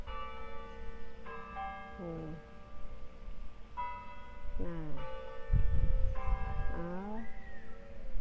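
Church bells ring out in France in several bursts, tones sliding in pitch between peals, with a low rumble of wind or handling and someone speaking briefly near the end.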